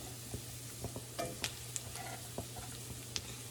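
Jalapeno bacon frying in a pan, a quiet sizzle with soft scattered crackles and occasional utensil clinks over a low steady hum, no speech.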